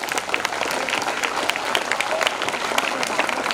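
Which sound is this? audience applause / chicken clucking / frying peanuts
audience applause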